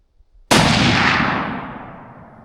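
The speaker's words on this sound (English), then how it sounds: "I am shooting free recoil." A single loud .284 Winchester rifle shot fired free recoil, a sharp close crack after a brief quiet moment, followed by a long rolling decay.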